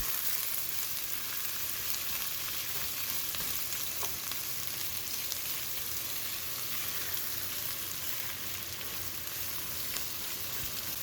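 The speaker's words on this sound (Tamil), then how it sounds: "இப்போ நம்ம ஸ்லைஸ் பண்ணி வச்சுருக்கிற வெங்காயத்தை சேர்த்து நல்லா ப்ரௌன் ஆகிற வரைக்கும் நம்ம வதக்கலாம்" Sliced onions sizzle and fry in a pan for a mushroom dum biryani, a steady dense crackle running close and even throughout, with no talking.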